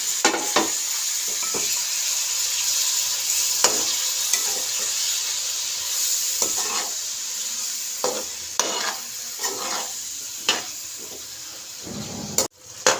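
Small chicken cubes sizzle in a hot pan while being stirred, with steady frying hiss throughout and repeated scraping stir strokes at irregular intervals, close and fairly loud; no talking.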